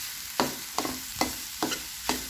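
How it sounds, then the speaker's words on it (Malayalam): A spoon scrapes and stirs cooked baby jackfruit with salt in a pan, five evenly spaced strokes with soft background sizzle, close and clear. "ഇതെല്ലാം കൂടി ഇപ്പം നമ്മൾ നന്നായിട്ട് വീണ്ടും ഇളക്കി നന്നായിട്ട് യോജിപ്പിച്ചെടുക്കണം"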